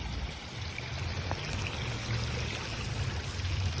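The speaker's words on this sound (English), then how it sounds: "you can watch the water flow around you" Water flowing in a stream in Briarwood Park in DeSoto, Texas, a steady low rushing and trickling wash that holds level throughout without talk.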